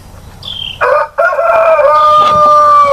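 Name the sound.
barnyard rooster crowing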